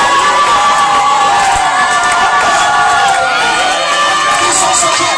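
Church congregation at a Sunday worship service cheering and shouting for joy, a loud sustained crowd roar with overlapping voices and whoops that stays dense throughout.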